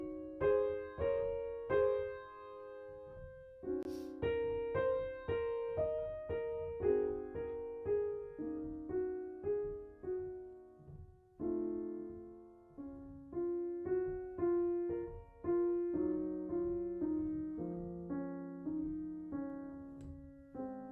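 Solo piano plays Debussy's Clair de Lune with a varied touch on each note, gentle arpeggiated phrases rising and falling at a soft, intimate level, each note struck and left to ring, alone with no talking.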